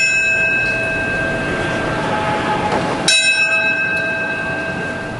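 Church bells toll at the Ground Zero memorial in Manhattan, loud sustained ringing tones that decay and are struck again about three seconds in, with no talking.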